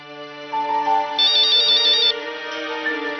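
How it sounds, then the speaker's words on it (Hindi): A phone ringtone plays a steady electronic melody in a Hindi TV drama scene, continuous and clear from start to finish with a brighter chiming phrase in the middle and no voices over it. "पूर्वी, पूर्वी, तुम्हारा फोन है।"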